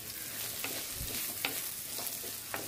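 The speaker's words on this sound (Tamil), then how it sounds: "இப்போது அதில் வெங்காயத்தை சேர்த்துடலாம்." Chopped onions for mutton keema sizzle and fry steadily in a hot pan, with a few soft stirring scrapes breaking through the even crackle. No talking.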